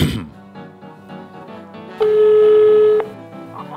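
A telephone dial tone sounds loud and close for about one second as a single steady beep, preceded by faint handling and clicks of a phone.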